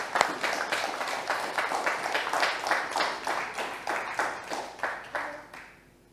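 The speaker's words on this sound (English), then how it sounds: "Warm round of applause, please." An audience at a book launch gives a warm round of applause, with dense clapping swelling in repeated waves before fading out at the end.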